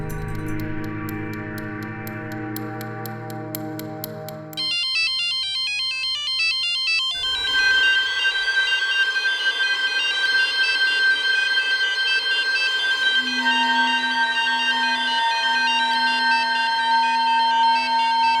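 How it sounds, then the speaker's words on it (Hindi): A phone rings in a tense police-drama scene, a looping electronic ringtone pattern that shifts partway through, loud and steady with no talking over it. "फ़ोन उठाइए"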